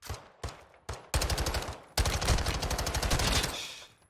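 Machine gun fire in the video game Call of Duty: Modern Warfare 2 comes loud and close: a few single shots, then two long rapid bursts.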